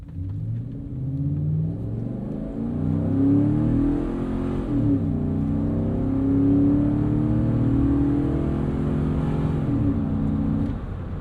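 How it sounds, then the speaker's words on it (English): A 2013 Chevrolet Avalanche pickup with a 5.3-litre V8 pulls away from a standstill, its engine rising through a smooth, steady rev climb with a shift-like dip midway, loud and close, with no talking over it. "we can stop and see how this Chevy Avalanche gets off the line"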